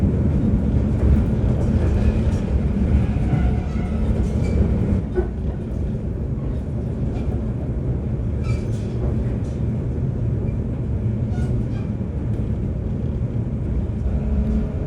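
Steady rumble of a train in motion through snowy rural Japan, heard from inside, a continuous low roar with occasional faint rattles and clicks, no voices.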